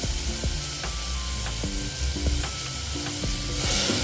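Soaked moong dal and onions fry in a pan with a continuous close sizzle, punctuated by regular scraping knocks of a spoon stirring, with no talking.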